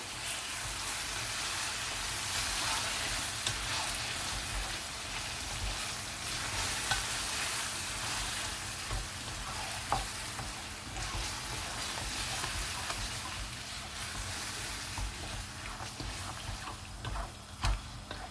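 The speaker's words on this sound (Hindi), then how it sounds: "हम इसको अच्छी तरह मिक्स करेंगे और तकरीबन 5 मिनट हम इसको फुल आंच पे जो है ना वो पकाएंगे" Chicken mince with peas sizzles and fries over full heat in a pan while being stirred, a dense continuous hiss with occasional spoon scrapes and clicks throughout, close and steady.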